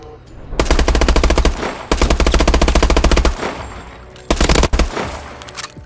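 Automatic weapon fire at the firing range in Call of Duty: Advanced Warfare, three rapid sustained bursts of loud gunshots separated by brief pauses, the last burst shorter.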